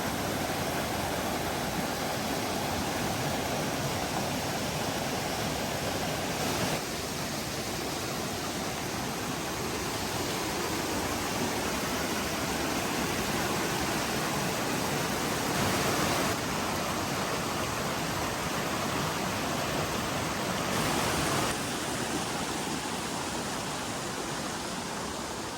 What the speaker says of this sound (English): You hear an angry river like that?